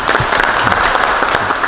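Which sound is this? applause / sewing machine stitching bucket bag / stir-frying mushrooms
applause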